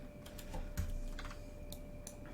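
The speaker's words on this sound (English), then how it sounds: "let's type in 150" Numbers being typed on a computer keyboard, several quick faint key clicks spaced irregularly over a low steady hum, with no voices.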